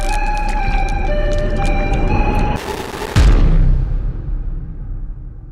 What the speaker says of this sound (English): that explosion you just saw was a really big explosion